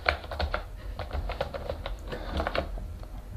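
Fingers type on a small new computer keyboard with a laptop-like sound, giving a fast irregular run of light, close clicks and taps.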